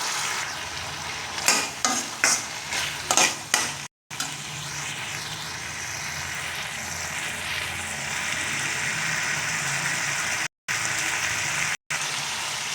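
Sindhamani chicken fries in a pan with coriander leaves stirred in; several quick scraping clatters of a utensil come first, then a steady, close sizzle continues with brief breaks.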